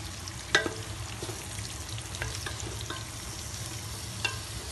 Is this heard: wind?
no